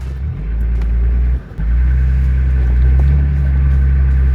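A car backing up on a completely flat tyre on a remote track in northern Spain, a loud, steady close engine rumble with a brief dip partway through, no talk.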